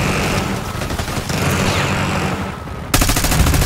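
Loud, dense automatic gunfire and rapid shots in a Call of Duty: Black Ops 6 multiplayer Kill Order match on the Babylon map, firing continuously with a sharp burst of heavier shots near the end.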